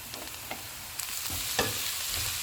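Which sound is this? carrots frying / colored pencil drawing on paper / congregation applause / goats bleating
carrots frying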